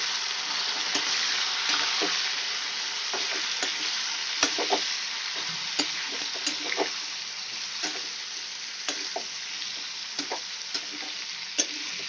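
Okra and potato pieces fry in a pan with a steady, dense sizzle as a utensil stirs them now and then, giving occasional light scrapes and taps over the continuous close hiss.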